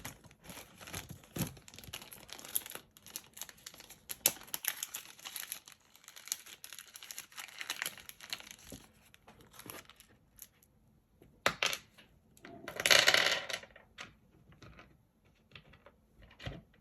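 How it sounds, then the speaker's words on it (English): Metal studs being taken out of plastic packaging for a holster, heard as close, irregular plastic crinkling and crackling with small clicks, and a louder burst of rustling near the end. "I'll unpackage these studs"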